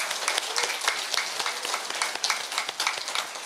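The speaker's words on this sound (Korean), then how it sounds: "다시 한번 큰 박수 부탁드립니다" Audience applause at a Korean Won Buddhist temple service welcoming new ministers, steady dense clapping from a crowd that continues throughout with no speech over it.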